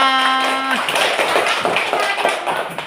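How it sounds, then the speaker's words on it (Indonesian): Children in a classroom clap their hands together in a quick burst of light, scattered claps that follow a brief sustained tone at the start and then thin out unevenly. "Oke, tepuk tangan untuk kita semua."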